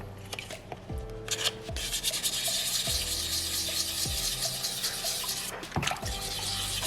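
Wet sandpaper rubs over a small soapstone butterfly carving in steady back-and-forth strokes, with occasional water splashes and rinsing noises close by, no voices.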